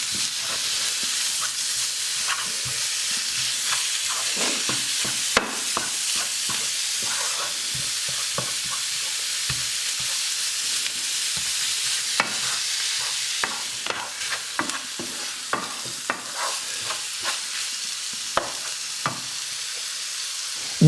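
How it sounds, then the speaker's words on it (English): Beef mince sizzles loudly in a hot pan with a constant hiss, while a wooden spoon stirs it with frequent soft scrapes and knocks, close and without talking. "Add beef mince and mix well with a wooden spoon."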